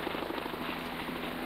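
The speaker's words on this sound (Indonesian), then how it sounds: "7 jenis helikopter dengan tipe Airbus dan Bell akan dipamerkan." Airbus and Bell helicopters at an exhibition at Cengkareng Heliport in Tangerang give a brief, steady, fairly quiet rotor and engine drone with no break.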